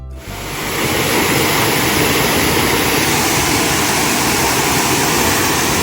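Harrison Wright Falls at Ricketts Glen State Park, a steady loud broadband roar of falling water, close and continuous without pause.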